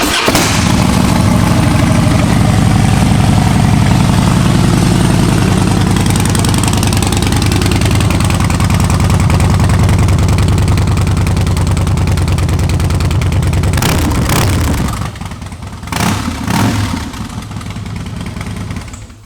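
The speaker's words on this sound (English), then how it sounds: "I'll fire it up for you guys real quick." A 2011 Harley Davidson Softail Blackline motorcycle fires up and idles with a loud, steady rumble, holding close and even, then drops lower near the end with a few short blips of throttle.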